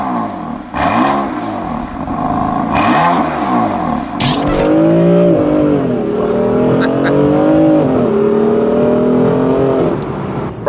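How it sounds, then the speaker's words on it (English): BMW M4 with a dual-clutch transmission accelerating hard, engine note climbing through loud, rising revs with quick gear changes, close and dominant inside the car. "Brian's going apeshit in the M4 here"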